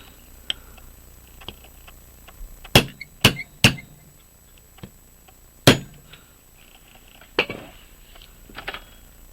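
A small hammer taps on a pocket watch balance staff during a staff replacement, giving a handful of sharp, close metallic clicks spaced irregularly over several seconds with quiet gaps between.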